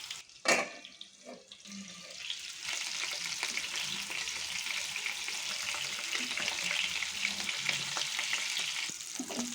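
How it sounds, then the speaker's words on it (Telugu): Fish frying in hot oil, a dense, steady spattering sizzle that swells after a couple of opening knocks and holds close and loud to the end, with no voices. "ఆయిల్ వేడెక్కింది. ఇప్పుడు ఫిష్ వేసుకున్నా."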